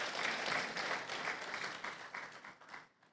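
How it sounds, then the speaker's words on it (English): Audience applause at a conference panel session, a dense burst of many people clapping that holds briefly and then fades away over about three seconds. "Please, a round of applause for us."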